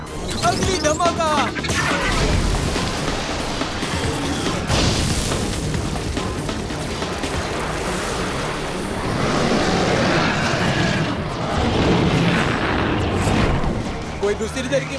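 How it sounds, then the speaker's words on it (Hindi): A cartoon explosion blast effect with loud booming and crashing bursts, set among dense animated action sounds, with characters talking over the noise. "अगली धमाका!"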